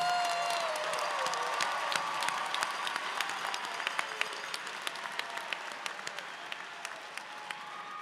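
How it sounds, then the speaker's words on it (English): A large audience at a university school of social work convocation applauds the graduates, a dense, distant wash of clapping with a few cheers and whoops mixed in, holding steady. "One more round of applause for all the graduates."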